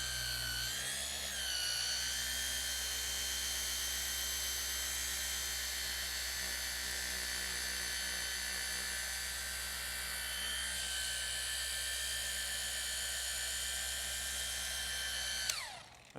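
A polishing machine works steadily on a BMW E92 M3, stripping ceramic coating from the paint, giving a loud, continuous high-pitched whine like a drill with a low hum beneath, its pitch dipping briefly early on before spinning down abruptly at the end.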